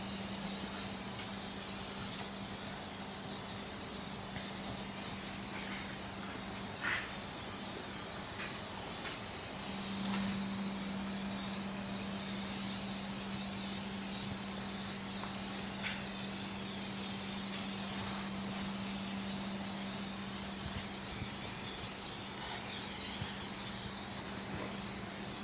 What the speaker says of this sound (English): You can spray the whole entire thing.